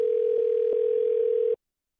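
A steady telephone dial tone while calling a coin and bullion shop, holding one unbroken pitch for about a second and a half before cutting off abruptly into silence.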